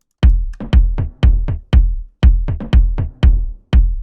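Layered drum toms in a house music track, struck in a steady rhythm of about a dozen loud, punchy hits with short reverb tails, heard alone without any voice.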